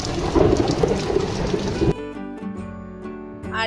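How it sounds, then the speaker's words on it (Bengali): Heavy rain pours steadily alongside loud thunder rumbling close by during a sudden storm, the downpour hissing densely at first before thinning into scattered drips against a quieter background. "আর দেখতে দেখতে খুব জোর বৃষ্টি হয়েছে আজকে"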